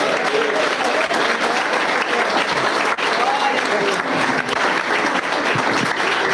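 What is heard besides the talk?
church congregation applauding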